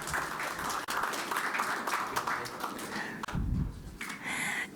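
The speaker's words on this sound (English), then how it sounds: "Round of applause, everybody." A crowd at the Singapore Cup draw ceremony for football claps steadily in a soft, distant wash that carries on for several seconds, with a few louder thumps near the end.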